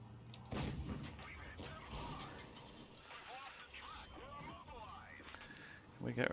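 A heavy gun firing in a multiplayer video game, loud booming shots set against a busy mix of game sound and voices.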